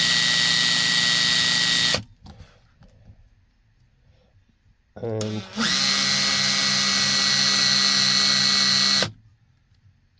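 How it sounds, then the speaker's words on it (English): A power drill bores a pilot hole through masking tape on the plastic body of a 1/16 scale RC camper van, running in two loud steady bursts separated by a quiet pause, with a brief spoken word between them. "this is my first pilot drill."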